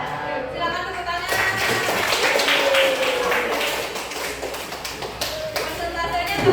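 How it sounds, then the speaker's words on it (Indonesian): Clapping from an audience at a school presentation, a dense, steady patter of hands with scattered sharper taps, moderately close, with faint voices underneath. "Silakan tepuk tangan."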